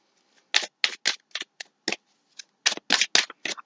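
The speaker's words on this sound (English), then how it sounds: "I am just going to shuffle, see if anything else wants to come out." A deck of cards is shuffled in a quiet room, giving a run of crisp riffling bursts in two clusters separated by a brief pause, close and moderately soft.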